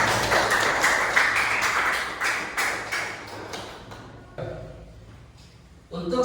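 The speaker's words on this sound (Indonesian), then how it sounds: "tepuk tangan buat kita" Classroom of pupils clapping together for a teaching demonstration, a sustained burst of fairly loud group applause that thins out toward the end, with a fresh short flurry right at the close.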